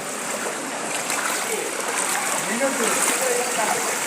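Rain flood water surges along a street in Dhaka's Banasree and Khilgaon area, a steady broad rushing wash with small splashes throughout, with a voice faintly underneath.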